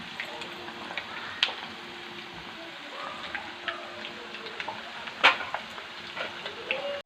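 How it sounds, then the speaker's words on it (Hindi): Mutton kofta fry in hot oil with a steady soft sizzle and crackle, a few sharper pops and a faint clink of a utensil, close by, with no voices. "हमारे कोफ्ते फ्राई हो रहे हैं"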